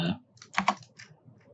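Quiet, close keyboard typing in Adobe After Effects comes as a few sharp clicks and a quick double tap, with short pauses between the keystrokes.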